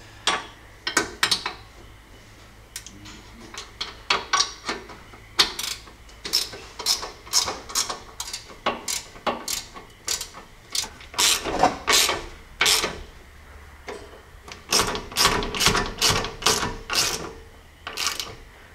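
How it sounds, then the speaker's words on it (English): Ratchet tightening the 3/4 inch sway bar bracket bolts on a Jeep during a Rubicon Express sway bar disconnect install, a steady run of close, rapid clicking bursts repeated over and over with no talking. "I'm going to go and tighten up these bolts over here."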